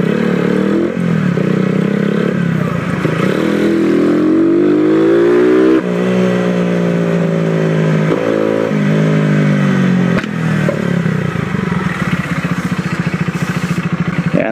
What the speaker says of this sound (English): Sometimes we get these exhaust pops because the mixture it's still a tad lean